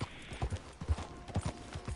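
A horse's hooves clip-clop steadily in the video game Red Dead Redemption 2, an even walking rhythm of close, distinct thuds over a faint background hum.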